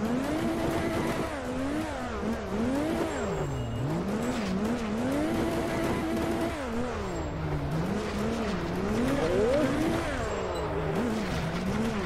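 Drift car in the racing game rFactor 2, the engine revving and winding up and down continuously while the tires squeal and skid through long slides, loud and close throughout.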